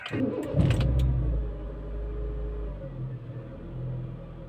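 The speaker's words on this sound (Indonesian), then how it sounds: "Kita langsung uh, lanjut untuk proses starter ya." A car engine cranks and catches after being jump-started with a Taffware portable battery jump starter, a brief burst of starter noise giving way to a steady, close idle rumble.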